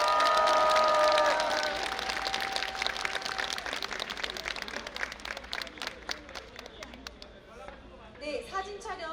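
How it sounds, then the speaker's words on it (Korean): A crowd applauds at a Democratic Party campaign launch rally in Gwanghwamun, Seoul. Clapping mixes with voices and a brief tonal sound at first, then thins into scattered, irregular claps with chatter. "여러분의 박수로 함께 해주시기 바랍니다."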